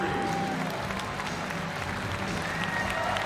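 Dense crowd noise from spectators at a college wrestling dual meet in an arena, a continuous roar of applause and cheering, with an announcer talking over it.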